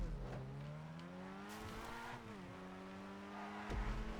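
Grotti Itali RSX sports car in GTA with its rear tyres losing grip. A steady, droning engine note shifts pitch as the car slides, with a faint tyre squeal and a thud near the end, all fairly quiet.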